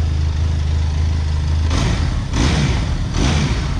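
Engine of a 2021 Benelli TRK 502X motorcycle running through its side-mounted exhaust, a steady low rumble close by with a few brief swells in revs, no talk.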